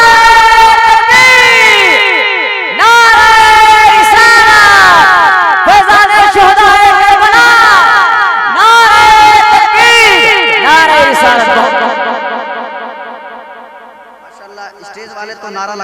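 A crowd at an Islamic religious gathering chants the Nara-e-Takbir slogan in loud, rhythmic unison, the voices surging in repeated call-and-response bursts that fade toward the end.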